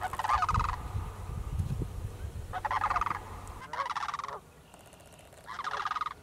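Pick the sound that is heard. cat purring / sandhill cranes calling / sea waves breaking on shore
sandhill cranes calling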